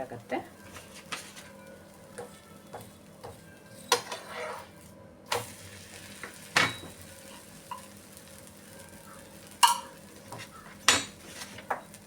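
Ragi rotti cooks on a hot pan with a little oil, giving a soft, faint sizzle with occasional clinks and scrapes of a utensil against the pan, and a voice speaking now and then.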